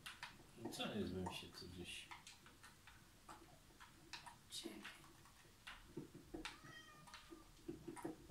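A Minecraft cat meows a few times early on, fairly faint beneath quiet talk, with steady soft ticking and clicking game sounds running throughout.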